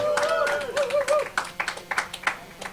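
An esports crowd at a StarCraft match claps in a quick run of sharp bursts as player FnaticHarstem is introduced, following a few cheers and a caster's voice.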